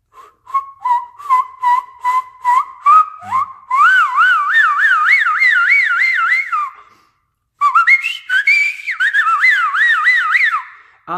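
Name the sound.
loud fingerless whistling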